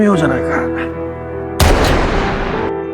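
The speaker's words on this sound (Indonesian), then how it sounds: "mencoba melepaskan satu tembakan ke dalam sarang" A sharp, loud gunshot in a film, fired into a bear's den, bursts out abruptly after a musical passage, its blast ringing and decaying for about a second.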